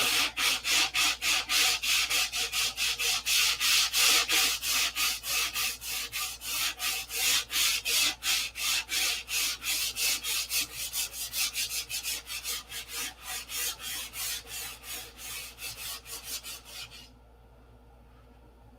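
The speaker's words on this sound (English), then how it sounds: "the sanding begins now" The nose of a P-47 model is sanded by hand with 320-grit paper in fast, rhythmic back-and-forth rasping strokes, loud and close, continuing for about seventeen seconds before stopping abruptly.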